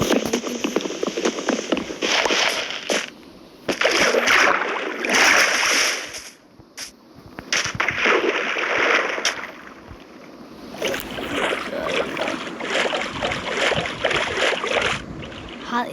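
A boat moving through water in the Minecraft video game, with continuous splashing and rushing water swells that briefly drop out twice, loud and close.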